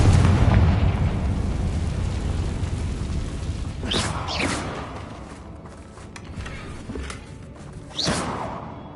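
Confringo fire spell in Hogwarts Legacy bursting with loud fiery booms and whooshes, a heavy blast at the start trailing off, then further sharp explosive bursts and swishes as the spell hits.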